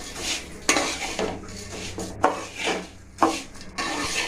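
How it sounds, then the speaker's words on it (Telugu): Flattened rice mixture tossed in a metal bowl with a spoon, giving close scraping and clinking strokes with a few sharper knocks against the rim, no voices. "బాగా మిక్స్ అయ్యేలా కలుపుకోవాలి."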